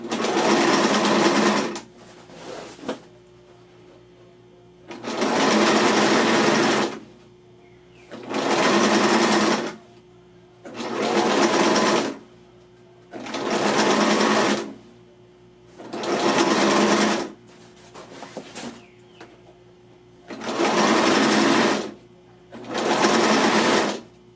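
A sewing machine stitches bias binding onto fabric in repeated bursts of rapid, buzzing whir, each lasting a couple of seconds, separated by short pauses, close and fairly loud with no talk.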